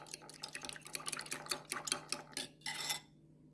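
Egg mixture with sugar being stirred for French toast, a utensil clinking and scraping against the bowl in quick repeated strokes, close and fairly loud, with no talking.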